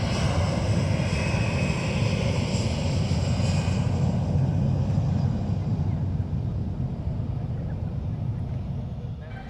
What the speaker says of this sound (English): AirAsia going off for that intersection departure.